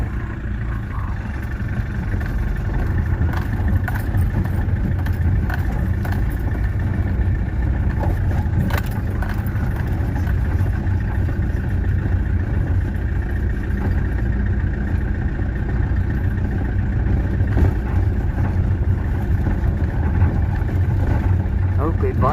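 A Peugeot 404 diesel fitted with an XD3 engine idles and runs after being started, giving a steady low rumbling clatter that stays constant throughout while a person talks over it.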